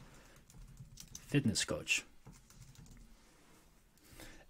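Keyboard typing into a search bar on a computer, a short burst of keystrokes in the middle, faint and close, with a voice speaking over it.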